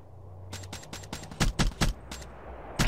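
Rapid bursts of gunfire in a first-person shooter match, a run of quick shots followed by several louder, heavier rounds, close and punchy with no talking.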